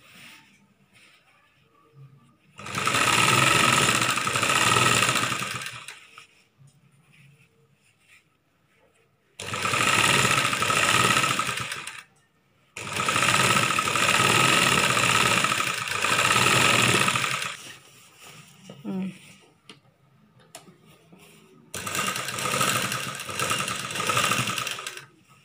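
A sewing machine stitches a chudidar top in several loud, whirring bursts of a few seconds each, separated by quieter pauses where a voice talks.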